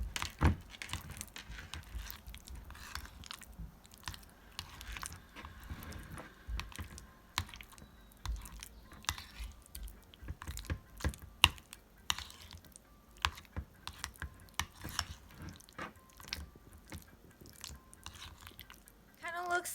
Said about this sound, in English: You're gonna carefully mix your mixture of Greek yogurt or plain yogurt